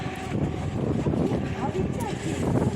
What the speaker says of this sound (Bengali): প্রচুর হাওয়া